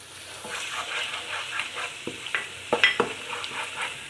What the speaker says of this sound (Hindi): ये हल्की आंच पे मैं इस मसाले की बुनाई करूँगी।